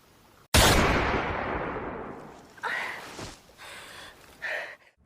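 A single loud gunshot in a film action scene, a sharp close blast whose rumbling echo fades over a couple of seconds, followed by short gasping, breathy vocal sounds.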